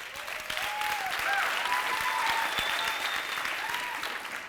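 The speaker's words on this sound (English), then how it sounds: "You're clapping for the wrong thing." An audience at a talk claps in a steady, full round of applause with a few whoops and whistles rising above it, continuing at even loudness throughout.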